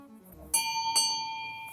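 Two bright bell strikes, the second about half a second after the first, each leaving a long clear ringing tone that fades slowly.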